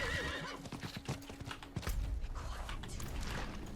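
Steady clip-clop of horse hooves in Diablo 4 gameplay, with a loud whinny near the start, a creak, and continued trotting to the end.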